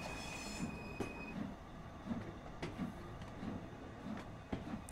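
LMS 8F steam locomotive hauling a carriage relief train toward Crewe, heard faint and distant, with soft rhythmic beats and occasional metallic wheel squeals over a low rumble.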